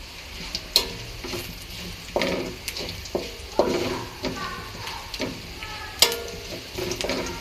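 Garlic frying in a pan with panch phoron spices added, a soft steady sizzle with intermittent stirring scrapes and clinks.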